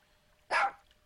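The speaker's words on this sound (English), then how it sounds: "there's some kind of dog thing down here" Dog in the video game Second Life gives a single short bark, moderately loud against a quiet background.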